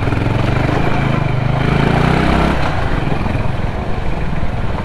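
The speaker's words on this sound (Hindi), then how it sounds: "होंडा मस्त खींच रहा है यहाँ पे दुगु दुगु करके बुलेट स्टाइल में आ गया होंडा" A Honda CB350 motorcycle engine pulling on a mountain road in Manang, Nepal, with a deep thumping beat like a Royal Enfield Bullet: steady, loud, close engine drone throughout, its low rhythmic pulse shifting slightly partway through.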